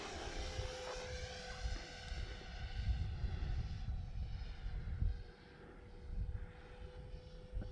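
An Arrows T33 model jet airplane flies a stall over a park, its engine a continuous whining roar with a steady high tone that swells and fades slightly as it passes, heard alone at moderate distance.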